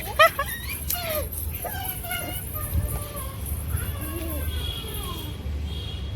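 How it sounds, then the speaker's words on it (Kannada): A young tethered puppy gives a burst of sharp yips followed by thin, drawn-out whimpers, close and fairly clear over faint background noise. "ನಮ್ಮ ನಾಯಿ ಮರಿ ಇಲ್ಲಿ ಕಟ್ಟಾಕಿದ್ವಿ, ಇಲ್ಲಿದೆ"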